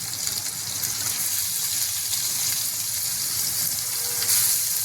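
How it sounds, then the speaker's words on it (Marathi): Eggs frying in a little oil in a frying pan for an egg masala, giving a steady, loud crackling sizzle throughout with no talk over it. "इकडे आपण एक फ्राय पॅन ठेवले. त्यामध्ये ही अंडी आपल्याला सोडायचे"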